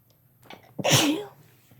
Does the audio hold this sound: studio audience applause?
no